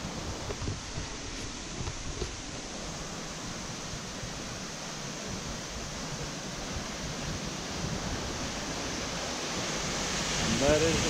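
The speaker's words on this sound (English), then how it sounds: "There is the waterfall." Dyserth Waterfall, a 70-foot drop, gives a steady broadband rush of falling water heard close and continuous throughout, with no voices over it.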